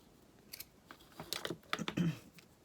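Scissors snip the ribbon hanger on a handmade wooden Christmas ornament, a few quiet, crisp clicks and cuts clustered close together, faint and alone with no talk.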